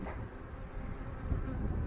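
Honey bees shaken from extra hive frames into an artificial swarm box buzz in a low, continuous drone close by, swelling slightly toward the end.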